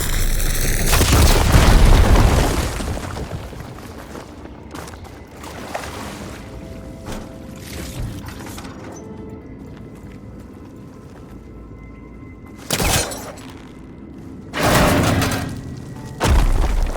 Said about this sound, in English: Should be able to blow up that fire gleam.